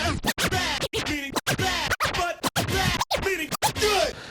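Rapid scratching on a DJ controller jog wheel, with sharp rhythmic cuts and pitch-sweeping chirps repeating throughout, loud and up close.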